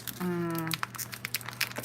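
Plastic packaging around a pen crackles and crinkles in short, close bursts as someone struggles to tear it open, with a person talking over the handling noise.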